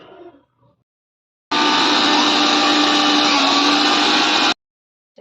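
A kitchen blender grinds peanuts, grated coconut and coriander into chutney in one loud, steady three-second burst that starts and stops abruptly, with brief quiet before and after.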